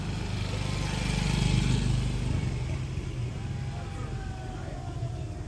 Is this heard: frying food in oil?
no